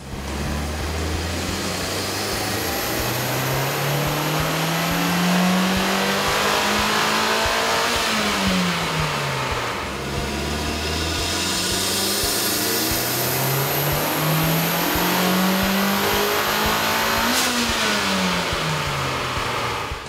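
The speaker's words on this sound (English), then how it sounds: "we ran the vehicle on the dyno to test the sound comparison versus the stock intake" A 2008-2014 Mitsubishi Lancer engine fitted with a K&N cold air intake revs on a dyno in two repeated sweeps. Each climbs steadily to a high-pitched peak, drops back, and then rises again. The engine sound is loud and close, and no one speaks.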